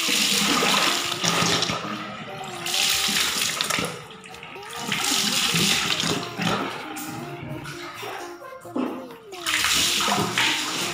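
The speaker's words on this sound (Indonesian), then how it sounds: "Kalau sudah, mukanya bisa dibilas." Water from a tap runs steadily into a basin while someone rinses their face, the splashing flow swelling and dipping in waves, fairly close and continuous.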